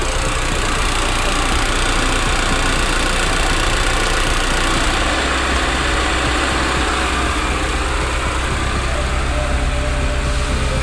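A carburetted car engine is held at about 1000 RPM, its steady, loud mid-to-low rumble droning on without a break and no voices heard.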